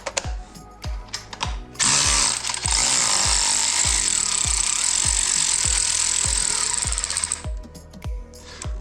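Power tool driving crash bar bolts on an Aprilia Tuareg 660 motorcycle: repeated ratcheting impact bursts at first, then a sustained loud whirring run of about six seconds, ending with more short rattling pulses, close and alone.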